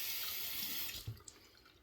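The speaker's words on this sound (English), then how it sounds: "Alright, gonna rinse off with some cool water." Cool water runs steadily from a tap while someone rinses off after shaving, a broad close hiss that thins out partway through, with a couple of small splashes near the end.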